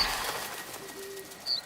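A sparrow calls in the Soulframe video game, a short bird call with a brief chirp near the end, clear and fairly close over soft background ambience, with no talk.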